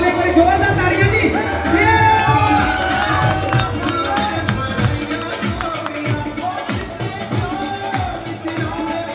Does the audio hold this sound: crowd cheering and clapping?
yes